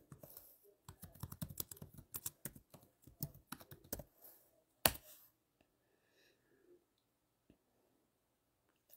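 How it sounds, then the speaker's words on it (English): Quick bursts of typing on a computer keyboard, close and quiet, with irregular clusters of key clicks for about four seconds, then a few isolated taps and near silence. "we're going to type it in."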